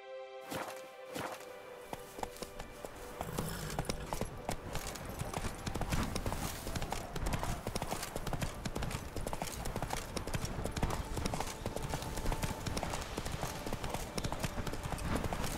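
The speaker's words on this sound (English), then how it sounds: "Whoa there, Roach" Hooves of a galloping horse in The Witcher 3 on Xbox One X beat out a rapid, steady clip-clop that is loud and continuous throughout, with a voice heard briefly near the start.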